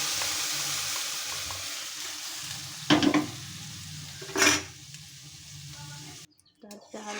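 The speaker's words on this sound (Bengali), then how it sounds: "এখন এগুলোকে আমি সিদ্ধ করা জিনিসগুলো দিয়ে দিলাম।" Boiled arhar lentils are stirred into fried spices in a pan. A continuous sizzle is broken by two louder bursts of stirring and clattering, then a sudden drop to near quiet before a few closing knocks.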